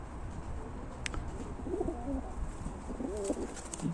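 Ukrainian high-flying tumbler pigeons coo softly in short, low, throaty phrases over steady background noise, with a brief high chirp from another bird.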